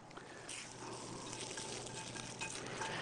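Onions hitting a hot pan for spanakopita filling, a dense, even frying hiss that swells slightly as they land and then holds steady, close by and with no talking.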